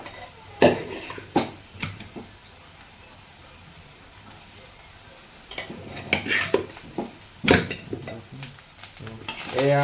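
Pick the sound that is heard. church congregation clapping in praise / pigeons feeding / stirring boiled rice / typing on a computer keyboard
stirring boiled rice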